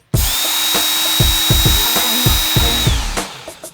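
Butter knife drawn through the coarse-grit slot of a knife sharpener. A steady whining hum runs for about three seconds, marked by regular low thumps, then stops.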